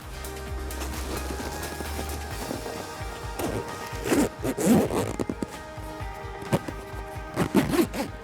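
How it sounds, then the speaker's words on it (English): Zipper being pulled closed on the carry bag of an iTrek 14 Duo inflatable kayak, with a few brisk rasping zip strokes and thumps close to the microphone, no talking. "So then flap comes over, start zipping."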